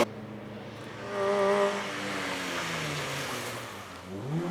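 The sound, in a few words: micro rally car racing at Cadwell Park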